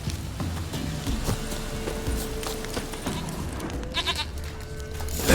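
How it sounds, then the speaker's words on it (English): A goat bleats repeatedly in the Witcher 3 video game, short nasal cries over soft footsteps and hoof clops, ending in a louder burst. "Here, goat."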